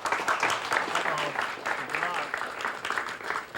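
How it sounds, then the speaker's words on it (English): At a live outdoor sportsman show about salmon fishing, an audience applauds moderately. The clapping stays fairly quiet beneath someone talking over it for a few seconds. "Go ahead and applaud if you'd say that doesn't count as a fish"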